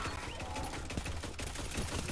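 Loquitor IV weapon in Destiny 2 fires a rapid, dense burst of shots, each crack blending into a continuous rattling barrage that stays loud and close throughout.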